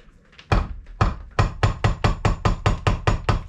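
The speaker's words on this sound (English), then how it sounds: "Let's try old school, screwdriver and hammer first." Metal-on-metal hammer strikes on a screwdriver against a 1965 Honda S65 motorcycle engine part land in a steady series, about a dozen sharp, evenly spaced taps, loud and close, with a few lighter hits at the start.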